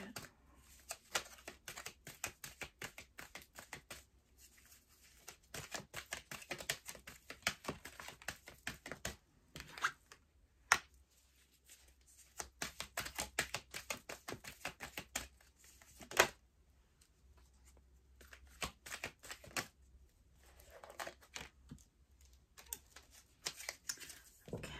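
A tarot card deck being shuffled by hand close up, with quiet, rapid papery flicks in repeated bursts separated by short pauses over about twenty-five seconds.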